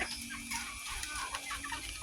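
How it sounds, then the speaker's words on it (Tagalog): A flock of chickens clucks continuously nearby, busy overlapping calls filling the short clip without pause. "Daming manok guys."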